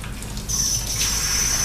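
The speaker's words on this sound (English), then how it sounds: "Let me wash my hands." Tap water runs steadily into a sink while hands are washed, a continuous close splashing hiss that swells slightly partway through.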